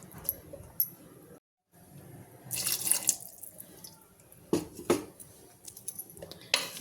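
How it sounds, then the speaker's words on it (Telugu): Water poured from a cup into a pot of bean (chikkudukaya) masala curry, a bright splashing gush mid-clip followed by a few short clinks and splashes, close and moderately loud with no talk. "ఇంకా కొద్దిగా వాటర్ వేసుకుందాం అండి."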